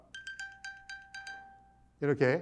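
A phone rings after being triggered from an Apple Watch find-phone app. About six short, evenly spaced electronic chime tones repeat, then a voice briefly cuts in.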